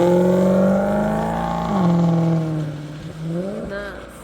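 A 1970 Nova vintage race car engine revs loudly, its pitch climbing, dipping and rising again, with a voice speaking over the roar.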